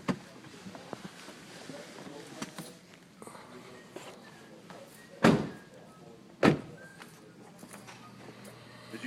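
A car door slams twice as the driver climbs out, two sharp loud thuds a second apart over quiet background rustle and faint movement.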